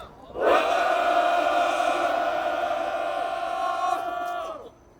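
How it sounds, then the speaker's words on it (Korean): Railway union members at a press-conference rally give one loud, sustained collective shout that holds for about four seconds before trailing off. "함성 시작"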